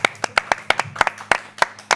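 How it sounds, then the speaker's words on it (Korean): A camera director clapping hands in a TV studio, about a dozen crisp, close claps in a quick, slightly uneven rhythm, alone without talk. "그리고 카메라 감독님이 제일 먼저 박수를 치셔가지고"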